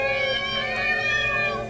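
A cat in the video game Arstone RPG gives a drawn-out, tonal meow lasting nearly two seconds, loud and close, with no speech over it.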